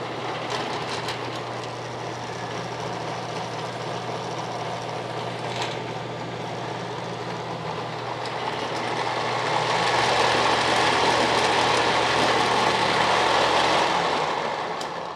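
A Shopsmith power station runs steadily with its variator and drive belt moving, giving a continuous loud motor hum and whir with a low tonal drone. The whir swells toward the end as the speed shifts, and there is no talking.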